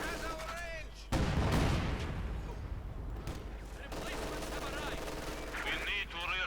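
Gunfire in Company of Heroes 2, a World War II strategy game: heavy machine-gun bursts and booming shots in dense, continuous rattling volleys, with game voice lines over the fire.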